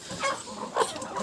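Young hens cluck softly in a winter poultry house, giving a few low, close calls with a slightly louder cluck near the end and no talking.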